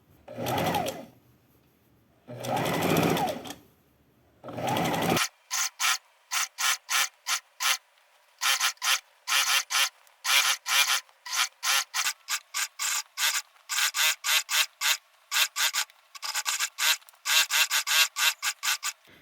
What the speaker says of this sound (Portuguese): Retrocesso no começo e vamos seguir a nossa costura.